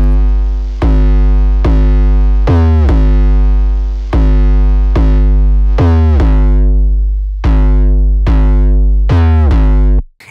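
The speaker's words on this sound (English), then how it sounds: "that is just with one form of very simple distortion" Deep, booming 808 bass notes with gritty distortion, struck in a steady rhythm and each sustaining loudly until the next hit.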